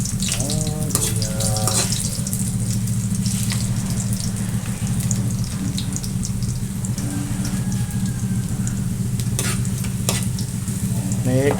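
Ginger sautéing in a pan for a crab and eggplant coconut-milk dish, a loud steady sizzle with occasional clinks from stirring over a low constant hum, close up and without voices.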